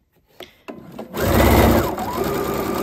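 A sewing machine stitches a curtain hem, sewing past gathering cords, with a few short bursts and then a steady, loud, close whirring run that slows slightly toward the end.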